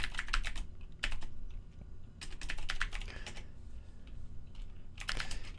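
Quick bursts of keystrokes on a computer keyboard come in short clustered runs separated by brief pauses, close and fairly quiet, with no one talking.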